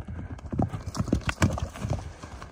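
Galloping hooves of a horse offered for sale for ulak (kok-boru) play beat out a quick, steady clip-clop rhythm, close and fairly loud throughout.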